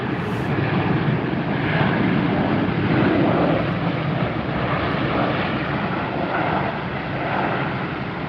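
An airplane arriving at Tampa Airport, Florida, produces a loud, continuous engine roar that holds steady across the whole stretch and swells slightly near the middle.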